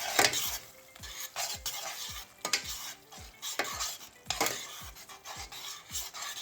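A spoon repeatedly stirs and scrapes through a garlic butter sauce with lemon and parsley in a pan, producing rhythmic scraping strokes over a faint background sizzle.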